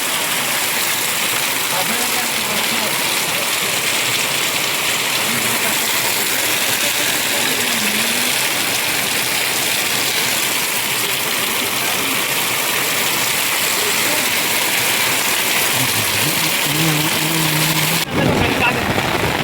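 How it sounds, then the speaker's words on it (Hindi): Heavy rain pours down in a village, a dense, loud, continuous roar of falling water filling the whole stretch, with a voice talking faintly underneath and a brief shift near the end. "तो संगवारी इतना पानी गिरत क्या बताऊँ।"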